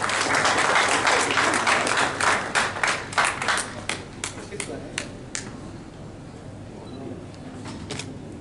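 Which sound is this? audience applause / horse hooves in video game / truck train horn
audience applause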